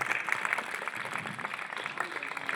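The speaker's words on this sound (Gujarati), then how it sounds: "ખૂબ ખૂબ ખૂબ તાળીઓના ગડગડાટથી આપણે જોરદાર તાળીઓથી અમને વધાવી" Applause for teachers at a Republic Day primary school event in a village, a steady patter of clapping from a crowd throughout, moderately faint and with no voices over it.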